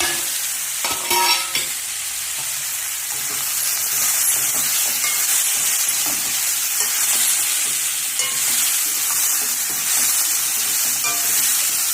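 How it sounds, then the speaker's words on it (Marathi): Green peas, potatoes, beans and carrots fry in oil for a village-style vegetable kurma, giving a steady close sizzle with spoon stirring and scraping throughout, and no voices. "आता ग्रीन पीस, आलूगड्डे, बीन्स, कॅरेट सगळं घाला आणि 1-2 मिनिटं चांगलं फ्राय करा"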